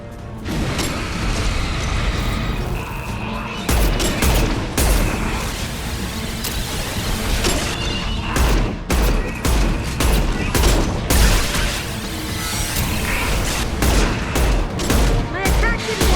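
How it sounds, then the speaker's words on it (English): Anti-ship batteries pound a Collector vessel in Mass Effect 2, a sustained barrage of loud, dense gunfire and heavy booms stacking over a low rumbling mix, with repeated bursts and thumps running throughout. "Firing anti-ship batteries at collector vessel."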